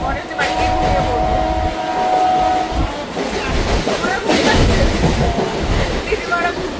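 Steady rumble and rattle of a moving passenger train heard from inside a carriage, with rhythmic wheel clatter and brief squeals, and a voice speaking faintly beneath the noise.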